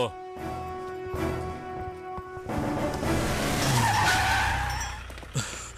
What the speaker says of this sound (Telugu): ఏంటి సార్ సడన్ గా బండి ఇక్కడ ఆపేశారు?